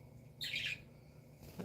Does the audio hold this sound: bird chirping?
yes